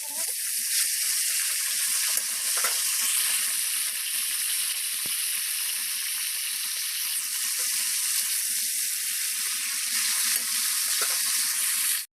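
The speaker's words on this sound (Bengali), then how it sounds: "এদিকে ফুলকপি ভাজছি, গাজর আর আলু ভেজে নিচ্ছি ডালিয়ায় দেবো বলে।" Cauliflower, carrots and potatoes fry in hot oil in a wok, giving a steady, dense sizzle that runs unbroken and fairly loud throughout, with a few faint clinks and scrapes underneath.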